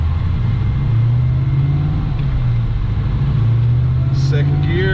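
Engine of a custom-built car accelerating on the road, a loud steady drone rising through second and third gear, with people talking over it inside the cabin.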